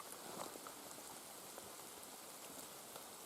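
Steady rain falls all around near a river, a dense hiss of drops with scattered louder patters, continuous and fairly close, with no voices.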